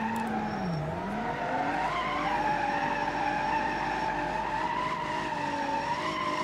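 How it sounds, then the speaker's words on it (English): A sustained tire squeal from a burnout in BeamNG.drive, a long wavering skid under a steady engine drone, loud and continuous with no talking. "let's see how long we can do a burnout for"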